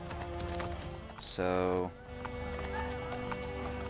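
Horse hooves in Assassin's Creed Brotherhood clip-clop steadily beneath a loud horse whinny, while someone talks over them.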